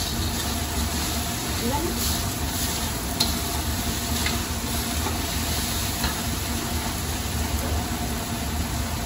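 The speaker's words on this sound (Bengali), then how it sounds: "মশলাটা কষানো হয়ে গেছে গা, এই যে একদম তেল ছেড়ে দিচ্ছে মশলাটায়" Masala spices sizzle and fry steadily in oil in a pan while cooking for a goat meat curry, a continuous close hiss with occasional stirring scrapes and talk over it.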